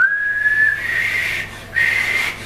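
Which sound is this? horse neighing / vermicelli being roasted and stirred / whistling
whistling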